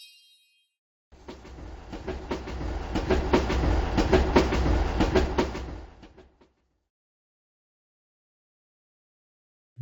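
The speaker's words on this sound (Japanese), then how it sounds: "これは電車。" Electric passenger train running past, rising from silence into a loud rhythmic clatter of wheels over rail joints, then cutting off abruptly into quiet.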